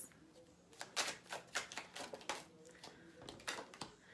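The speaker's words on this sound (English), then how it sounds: "I'm just going to shuffle." Star Power tarot cards being shuffled by hand, a rapid series of crisp riffling clicks and flaps in uneven bursts, fairly close and moderately loud, with no talking.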